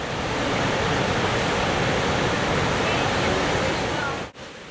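Victoria Falls on the Zambezi River, on the Zambia–Zimbabwe border, thunders where the river drops over 300 feet into a mile-wide gorge, a loud, steady broadband roar that cuts off abruptly near the end.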